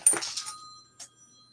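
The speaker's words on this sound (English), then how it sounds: "I'm getting so many spam phone calls lately." Phone ringing from an incoming spam call, a short electronic ring with steady tonal chime lines, heard briefly and fairly faint, with a second shorter burst after a pause.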